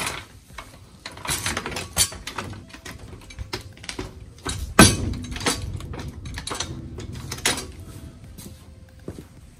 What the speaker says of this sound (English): Now I can run my jack up under here and jack it up.